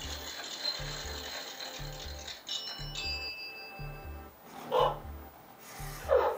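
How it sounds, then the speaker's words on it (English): Lever pulled on the slot machine game of a Loona robot pet, a steady series of ratcheting clicks and whirring like spinning reels, with bright chime tones and a couple of louder bursts near the end, close and without talking. "So we can just say simply, hello Luna, slot machine. And then I can pull this lever here."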